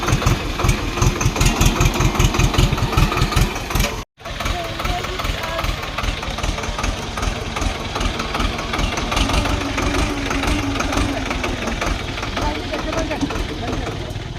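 Farm tractor engine idling close by, a steady loud low chugging that runs almost continuously, briefly cutting out for a moment before resuming, with no clear speech over it.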